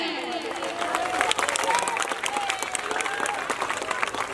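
An audience at an Azadpur Ramlila performance bursts into loud, sustained clapping with some cheering, while a voice continues speaking through the applause.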